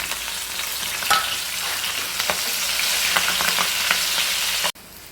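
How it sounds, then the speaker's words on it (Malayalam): Hot green chillies sizzling as they fry in oil for a Kerala festival ginger curry, with a loud, steady crackle and occasional sharp pops before it cuts off abruptly near the end. "മുളകെല്ലാം ഈ ഒരു രീതിയിൽ വറുത്ത് കോരണം കേട്ടോ"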